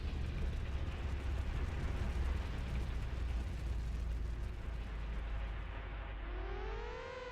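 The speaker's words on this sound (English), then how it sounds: "I saw an explosion out on the base." Explosion on a base in the video game Front Mission 3, a rumbling, roaring blast that sustains and slowly fades, with a rising siren-like tone emerging near the end.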